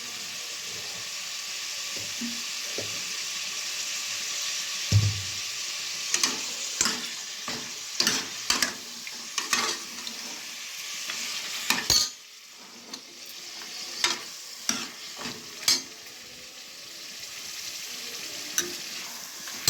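Mutton frying in hot oil for sambar, with a steady sizzle and repeated sharp scrapes and clacks of stirring against the pan at an irregular rhythm, close and clear, with no talking.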